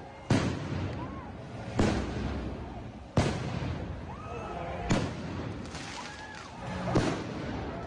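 Fireworks thrown during a street riot burst in five loud, sharp blasts spaced about a second or more apart, each followed by crackling and a rumbling tail, with chaotic crowd noise and whistles running underneath.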